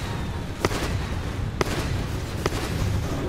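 Gyrocopter's Flak Cannon attacks in a Dota 2 match at The International 2015 grand final, heard as three sharp, evenly spaced pops over a steady crowd and game noise.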